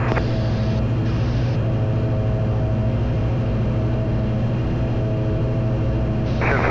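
Light aircraft engine droning steadily in flight with a propeller pitch change, a constant close hum whose tone shifts briefly near the start and again at the end.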